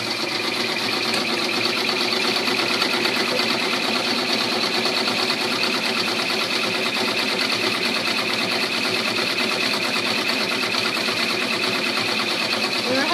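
A home embroidery machine stitches out a 3D troll girl peeker applique, its steady rapid whirring and needle chatter running continuously and loud without pause throughout.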